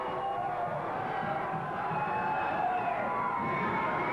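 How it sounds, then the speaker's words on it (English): Crowd at an Empire Pro Wrestling independent show in North Conway roars steadily with cheering and shouting throughout, a dense, sustained wash of many voices with no pauses. "And the crowd loves it here at Empire Pro Wrestling."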